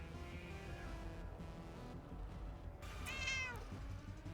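A cat meows a few times in a quiet room, with one clearer rising-then-falling meow near the end over low background hum.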